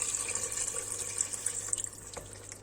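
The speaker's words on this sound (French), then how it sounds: "Donc je vais la couvrir d'eau." Water poured from a bottle into a pot of pumpkin soup, a soft steady splashing and trickle at low volume throughout the short clip.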